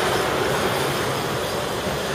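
A train rumbles past on a nearby railway in Tokyo, a loud, continuous clattering roar with wheel noise that stays steady throughout and no voices.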